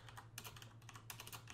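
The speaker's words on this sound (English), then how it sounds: "So you type the shift key and semicolon key together." Typing on a computer keyboard during a typing lesson, heard as bursts of rapid, crisp key clicks separated by short pauses over a low steady hum, close but quiet, with no talking.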